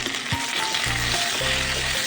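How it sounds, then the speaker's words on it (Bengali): Potatoes and chopped tomatoes with salt and turmeric fry in a pan, a steady close sizzle with a few soft stirring scrapes and no talking. "টমেটোটা গলে যাবে আলুটাও তাড়াতাড়ি ভাজা হয়ে যাবে"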